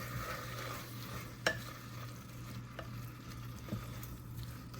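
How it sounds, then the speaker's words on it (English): Tomatoes are stirred in a pot while cooking chole pulav. A quiet, low sizzle continues throughout, broken by a few distinct spoon scrapes and knocks against the pot, with no one speaking. "Now I stir it properly"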